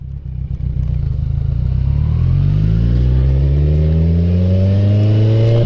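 A motorcycle engine runs loud and close, its revs climbing in a smooth, steady rising drone over several seconds, with no talking.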